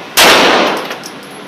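A single sharp Glock pistol shot at a shooting range, loud and close, with a short ringing decay and faint clinks after it.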